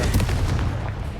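A Confringo fire-blast spell from the Hogwarts Legacy video game bursts in a dense, loud, continuous rumble of blasts and booms during combat, with no speech over it.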